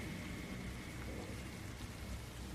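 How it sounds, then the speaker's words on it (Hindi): Heavy rain pours down in a forest, a dense, loud, unbroken hiss of falling water with a low rumble beneath, steady throughout the short stretch. "जंगल में तेज बारिश हो रही थी, हर तरफ पानी की मोटी मोटी बूंदें गिर रही थीं।"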